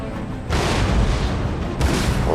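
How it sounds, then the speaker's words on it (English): Artillery in a Total War Empire battle fires as two loud, broad booming bursts about a second apart, heavy and close, over a continuous battlefield rumble. "We're hoping to take that artillery out with our artillery"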